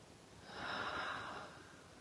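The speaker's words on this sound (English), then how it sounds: "Let's take 2 letting go breaths here." A single soft, drawn-out exhale rises and fades during a yoga practice. The release of breath is quiet and close, with a faint airy hiss and near silence on either side.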